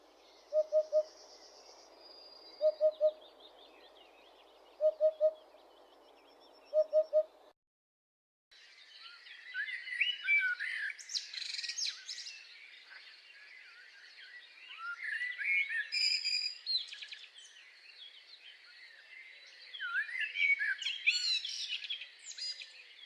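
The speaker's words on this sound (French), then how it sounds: "La huppe faciée." A Eurasian hoopoe gives its soft, hollow triple 'oop-oop-oop' call four times at a regular pace, followed by a stretch of brighter, busier birdsong from other birds.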